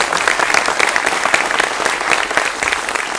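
An audience gives steady, dense applause in a studio setting, a loud continuous wash of clapping.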